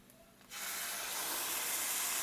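A salted pot roast hits a hot skillet at about half a second, setting off a loud, steady broadband sizzle that holds to the end after a quiet start.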